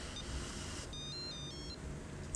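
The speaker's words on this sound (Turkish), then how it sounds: "Telefonun çalıyor." A telephone rings in a scene from a Turkish film, a faint electronic ringtone of short tonal pulses over a steady background hiss. The ringing runs for a couple of seconds with no voices.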